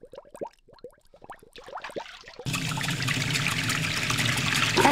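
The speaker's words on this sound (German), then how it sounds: "Und jetzt unter den Wasserhahn damit." Baby bottle rinsed under a running tap in a video game: first scattered drips and splashes, then a steady rush of flowing water that continues to the end.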